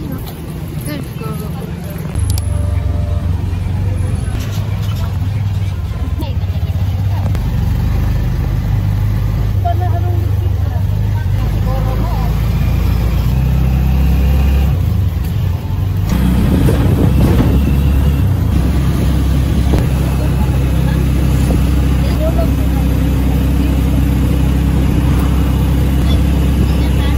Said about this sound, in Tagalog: Sakayan ng tricycle.